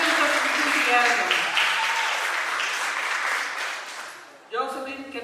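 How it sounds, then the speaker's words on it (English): An audience at a nursing graduation ceremony applauds in a steady, dense wash of clapping that fades before a speaker's voice resumes. "Please clap your hands."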